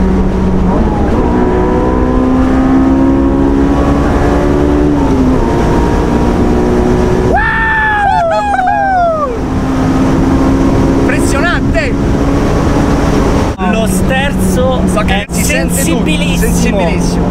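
A Honda S2000 sports car engine screams through rising gears at high rpm, with sharp upward sweeps and abrupt shifts, loud and close, amid background chatter.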